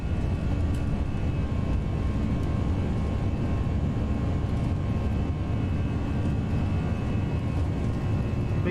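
Airliner engines at takeoff thrust on a runway roll out of Belfast: a loud, steady, broadband roar with a faint tonal whine, continuous and unbroken, heard from inside the cabin.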